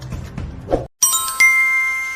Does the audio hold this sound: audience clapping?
no